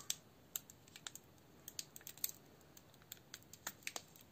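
A Pokémon card booster pack being torn open by hand: quiet, close crinkly tearing and rustling of foil wrapper in irregular sharp little bursts, with no voices.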